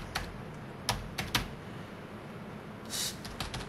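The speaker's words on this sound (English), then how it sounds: "typing in" Computer keyboard keys tapped in a few scattered bursts of clicks, with a quick flurry near the end, close and fairly quiet against low room hiss.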